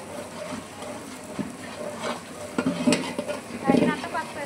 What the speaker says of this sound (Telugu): కలుపు, చిన్న కలుపు